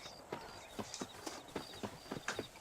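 Horse hooves clip-clop at a steady walking rhythm in Red Dead Redemption 2, a series of crisp, fairly quiet hoof strikes over a faint game background.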